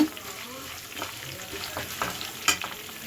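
Curry leaves fry and get stirred in hot oil for tamarind rice, a steady sizzle with soft scraping stir strokes and a sharper crackle near the end, close and moderately quiet.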